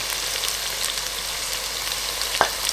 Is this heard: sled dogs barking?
no